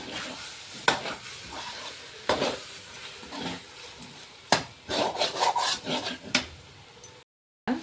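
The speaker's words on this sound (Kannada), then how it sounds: "ಈಗ ಚೆನ್ನಾಗಿ ಮಿಕ್ಸ್ ಮಾಡ್ಕೊಳ್ಳೋಣ. ಈ ರೀತಿ" Masala egg rice stirred and mixed in a pan over medium flame, irregular scraping and rubbing strokes of a spoon with light sizzling between, close and moderately loud, no talking.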